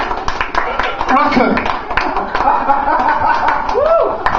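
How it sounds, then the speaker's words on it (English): Stand-up comedy audience at an orc-themed show clapping along and stamping their feet, a steady dense patter of hands and feet under laughter and chatter, with voices talking over it. "Clap your hands. Stamp your feet."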